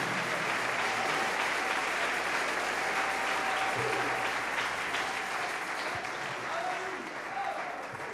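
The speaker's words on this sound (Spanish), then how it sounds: "Dale ese aplauso al Rey en esta hermosa mañana." A church congregation applauds the King on a Sunday morning, a sustained roar of clapping that fills the sanctuary, with scattered voices and cheers riding underneath.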